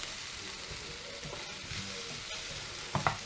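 Food frying in a pan with a touch of olive oil, a steady soft sizzle throughout with a couple of sharper crackles near the end; no talking.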